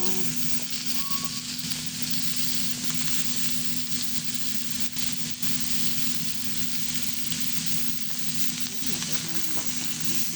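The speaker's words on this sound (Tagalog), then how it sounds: "Ilagay natin ang hamburger." A homemade hamburger patty sizzles in a pan with onions, a loud steady frying hiss running throughout with light crackle, close by.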